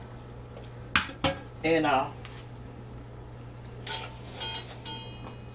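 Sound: boiled potatoes being put back into a pot

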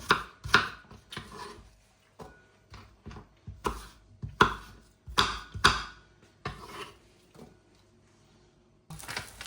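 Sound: knife chopping apple into cubes

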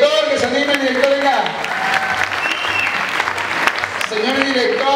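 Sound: audience applauding for the school director

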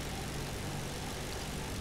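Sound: dive bomber plane engine in video game War Thunder

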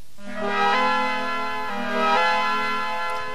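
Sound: Suzuki Omnichord strummed to imitate a steel guitar

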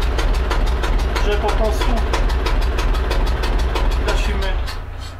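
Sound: lifeboat engine running at idle

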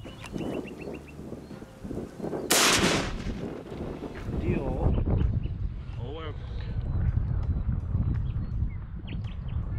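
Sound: larger caliber hunting rifle test shots

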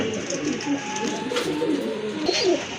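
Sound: pigeons cooing

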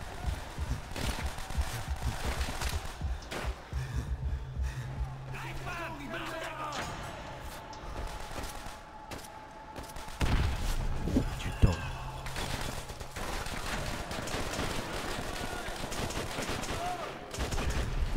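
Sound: gunshots in Call of Duty: World at War video game

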